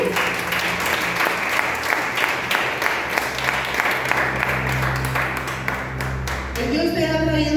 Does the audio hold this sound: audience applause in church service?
yes